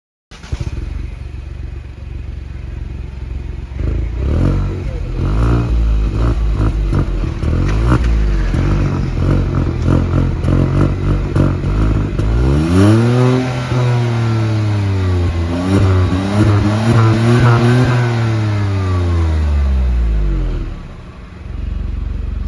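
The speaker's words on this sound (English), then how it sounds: "the biggest difference over here is how this 1-liter 3-cylinder turbo engine sounds" Hyundai i20 N Line with a 1-liter three-cylinder turbo engine revs repeatedly and then pulls through a long rising and falling sweep, loud and close, with no talking.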